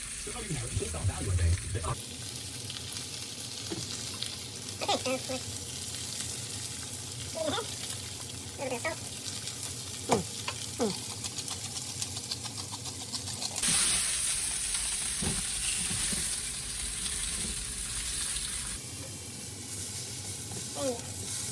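Grease sizzles and spits steadily while lasagna meat fries in a pan, with occasional pops and clatters of a utensil. A voice talks softly underneath at times.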